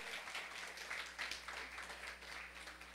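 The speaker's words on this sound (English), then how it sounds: "Everybody, give yourselves a round of applause." Live audience at a comedy show at Sylk's breaking into sustained applause, a dense wash of clapping from a crowd that holds steady throughout, heard from within the room.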